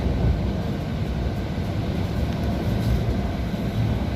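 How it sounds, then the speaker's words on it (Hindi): The Nanded–Visakhapatnam Express passes an onboard passenger of the Telangana Express from Hyderabad, a loud, continuous, close rumbling roar of wheels and carriages that holds steady throughout. "सामने वाली नांदेड़ विशाखापट्टनम एक्सप्रेस"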